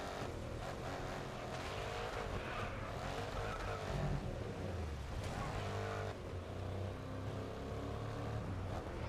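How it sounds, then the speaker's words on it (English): A racing truck in the GRID Legends video game roars with a steady, throaty engine drone while its tires skid and squeal at intervals, heard continuously throughout at a fairly quiet level. "This truck sounds so sick."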